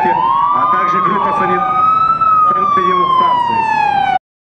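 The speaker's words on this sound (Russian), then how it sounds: "В данном случае к месту прибывает карета скорой медицинской помощи" An ambulance siren wails loud and close during a rescue and medical drill at a seaport, one long continuous rising-and-falling tone that cuts off abruptly near the end.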